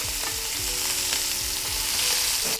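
Food frying in butter in a pan, a loud, steady sizzle with rhythmic low thumps and a faint tonal hum, heard close with no voices.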